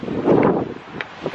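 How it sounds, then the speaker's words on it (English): Wind gusts over a microphone on Oahu's coast near the Halona blowhole, a brief rushing buffet that swells and then fades. "Super windy here, it's actually pretty cold."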